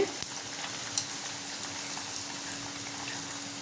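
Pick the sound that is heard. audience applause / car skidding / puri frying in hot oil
puri frying in hot oil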